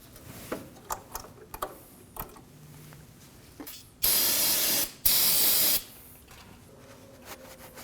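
Brake cleaner sprayed on the front brake caliper of a 2013-2015 Subaru XV Crosstrek after bleeding: two loud, steady hissing bursts of about a second each, preceded by scattered tool clicks and taps.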